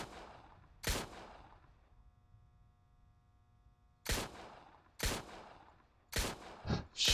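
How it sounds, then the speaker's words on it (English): Aircraft guns firing in the IL-2 Sturmovik flight sim during strafing practice: one loud burst, a long quiet gap, then several more sharp bursts in quick succession, with no talking. "Shooting a gun in IL-2 Sturmovik."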